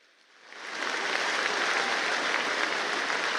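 Loud applause from a large crowd at a huge Adivasi tribal mass gathering in Jhabua, welcoming Prime Minister Narendra Modi, swelling up within the first second and then holding as a steady, dense roar of clapping.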